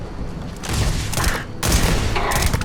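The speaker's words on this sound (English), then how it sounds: "Who's shooting at me?" Video game gunfire in Starfield during a firefight: two loud, close bursts of rapid overlapping shots separated by a brief lull, with no talking.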